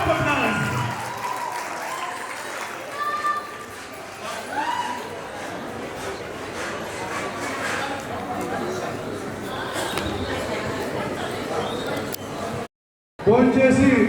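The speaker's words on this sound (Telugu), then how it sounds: "Please give a big round of applause." An audience at a community get-together applauds the winner with sustained clapping and crowd chatter for over twelve seconds, loud and close, before a brief break and a renewed burst.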